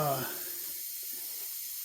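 Rust-Oleum spray paint can releasing a short hiss, loud at first and quickly thinning into a fading airy spray, with a voice briefly at the start.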